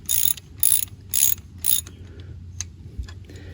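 A ratchet tightens a nut on a 1998 Suzuki JR 50 motorcycle during a rebuild, giving four quick, close bursts of clicking, then a few faint isolated clicks.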